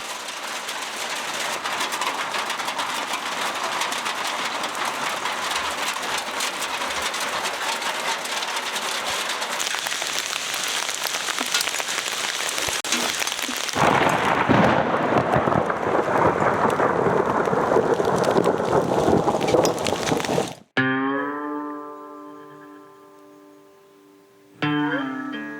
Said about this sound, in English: a hailstorm rolled in